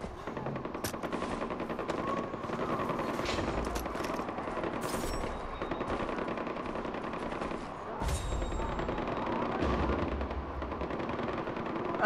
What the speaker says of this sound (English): Gunshot! But from where?